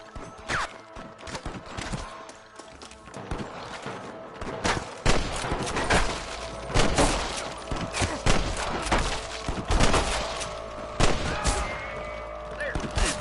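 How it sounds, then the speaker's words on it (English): A shootout in the video game Red Dead, with rapid bursts of gunfire cracking in irregular clusters, near and loud, some distant pops between them, and voices shouting. "I can hear more gunshots."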